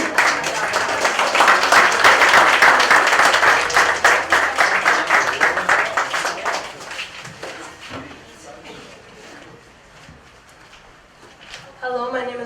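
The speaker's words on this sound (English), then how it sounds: "give a round of applause for the students that are entering" A celebration audience applauds as students enter, with loud, thick clapping that gradually thins and fades over several seconds before a voice begins speaking at the end.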